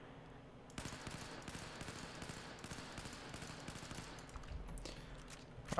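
AK5C rifle firing in the video game Battlefield 4, a faint, steady stream of rapid automatic shots in long bursts with no pause, no voices.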